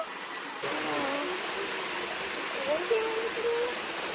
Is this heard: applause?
no